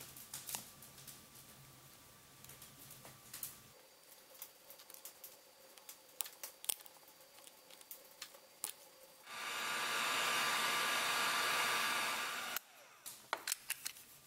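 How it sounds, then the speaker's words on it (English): A heat gun clamped in place blows hot air in a steady broadband rush for a few seconds, starting and stopping abruptly amid faint scattered clicks and taps from work on a camping axe. "If you clamp your heat gun to another clamp, you can use it to rotate the heat gun in two different axes."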